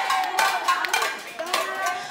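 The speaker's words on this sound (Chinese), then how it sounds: "古巴人在街上敲打锅碗瓢盆，高喊快点开灯" Cubans bang pots and pans in a Havana street protest during a nationwide blackout, a dense clatter of metallic strikes ringing out in quick, irregular bursts, with faint crowd voices mixed in.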